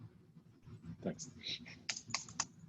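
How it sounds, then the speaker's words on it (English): Typing on a computer keyboard, a short run of faint, scattered key clicks with uneven rhythm, quiet and close. "I'll just try typing this."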